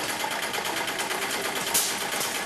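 An industrial stitching machine sews a city shoe on a shoe factory floor, giving a steady, dense mechanical whir with a fast rapid rattle that runs without pause for the whole moment.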